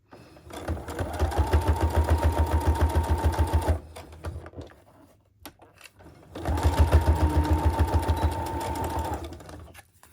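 Sewing machine chain piecing fabric pieces sewn on paper, two close bursts of fast, even stitching clatter several seconds long, separated by a pause with light handling noises.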